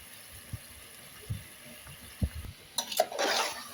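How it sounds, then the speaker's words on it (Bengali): Rice stirred into spice masala for tehari makes faint, scattered scraping and clinking of a spoon against the pot, with only a light sizzle rising near the end. "চালগুলোকে দিয়ে আমি ভালো করে এটাকে ভেজে নিব, মশলার সাথে ভালো করে মাখিয়ে নিব।"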